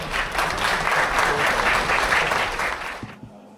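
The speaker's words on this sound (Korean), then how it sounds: "여러분 큰 박수로 맞아주십시오." A crowd at a book launch event claps in a loud, full burst of applause to welcome a speaker, holding steady before dropping off abruptly near the end.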